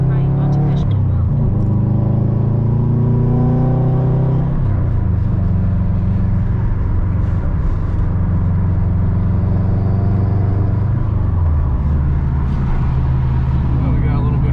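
A car engine at a New York auto fest revs up and falls back in several swelling pulls, with a steady rumbling drone between them and talking over it.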